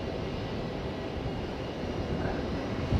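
Continuous broadband roar of an incoming airliner on approach to land at Fukuoka Airport, a steady distant rumble holding even loudness throughout with no voices.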